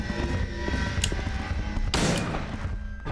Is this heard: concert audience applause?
no